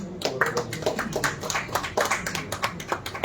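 Audience at a Hindustani-language poetry award ceremony breaking into applause, a dense, fairly close patter of clapping hands that holds steady for a few seconds.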